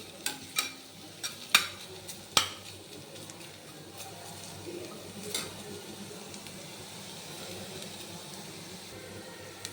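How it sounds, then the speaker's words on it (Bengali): Potatoes and carrots frying in a pan, several sharp spatula clacks and scrapes early on over a soft steady sizzle that continues quietly afterward; no talking. "দেখো আলু আর গাজরটা প্রায় ভাজা ভাজা হয়ে গেছে"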